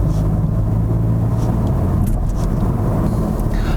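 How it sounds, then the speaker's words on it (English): A 2022 Toyota Supra GR 2.0 sports coupe with a 255-horsepower engine, its steady low exhaust rumble and engine drone carrying continuously at a fairly loud level with no talking over it. "it's also got a pretty good exhaust tone"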